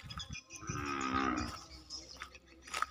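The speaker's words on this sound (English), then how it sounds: "Got some cows over here." A single drawn-out cow moo, near and clear, rising and then fading over about a second, followed by faint rustling in a rural spot in Cambodia.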